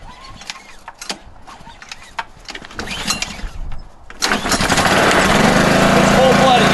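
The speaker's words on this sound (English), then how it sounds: "Got the pressure washer extraordinaire out here." A gas pressure washer with its choke on catches after a pull start, its small engine settling into a loud, steady drone up close, with scattered handling noises and voices before it fires.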